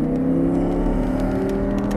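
An Audi R8 engine pulling out of a corner on a cone-marked course, a loud steady throaty drone with a rising tone, heard from close inside the car, alone with no talk.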